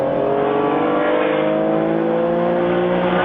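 Two Porsche race cars accelerating hard up the start-finish straight at a vintage sports car reunion race, engines roaring loud and steady with rising pitch throughout.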